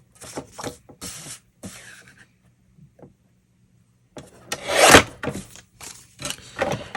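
Wood being cut to length for a Santa mailbox, heard as a few short rasping saw strokes, a pause of near silence, then a louder burst of rough scraping strokes, close and with no talk.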